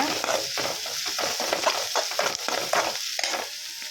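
Steady sizzling and frying of ginger garlic paste sautéing in oil in a pan, with soft scraping and stirring sounds throughout, close and continuous.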